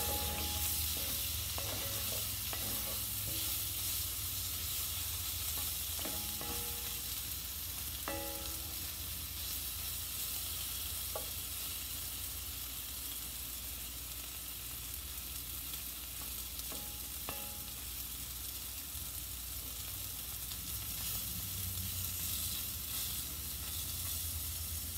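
Sausage fries in a pan with a loud, continuous sizzle that holds steady throughout, while faint utensil clicks and scrapes come through now and then as it is stirred.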